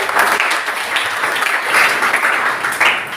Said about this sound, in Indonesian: Beri dulu tepuk tangan bagi Tuhan.